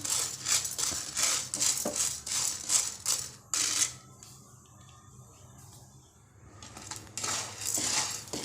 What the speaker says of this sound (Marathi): बघा, आता साबुदाणा भाजून झाला आहे.